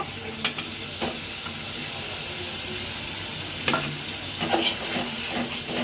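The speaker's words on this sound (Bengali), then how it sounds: "এটা আমি একটু ভেজে পেঁয়াজটা নরম করে নিব" Onion and garam masala sizzle steadily in a pan while a spoon stirs with a few scraping knocks, close and continuous with no voices.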